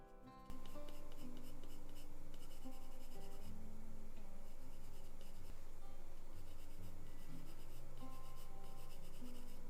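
A graphite pencil shades petal gradients on paper, making continuous dry scratchy rubbing strokes close to the microphone in a soft, steady rhythm with brief pauses, and no one speaks.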